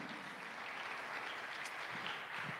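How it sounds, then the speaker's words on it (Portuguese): A church congregation applauds during a sermon, a soft, steady wash of clapping heard from a distance, faint throughout with no talk over it. "Você pode dar um aplauso a Jesus?"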